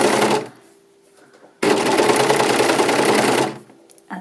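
A sewing machine stitches a knit neckband in two bursts, a short run and then a longer, steady buzzing stretch, loud and close, with quiet pauses between.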